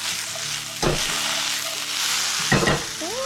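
Food sizzling steadily in a hot pan for a cheap breakfast scramble, with two louder bursts of stirring or scraping partway through; no voices.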